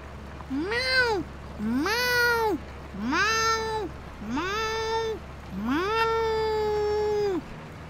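A cat in the Farming Simulator 25 game gives five distinct meows in steady succession, each rising and falling, clear and close with a faint hiss of background noise.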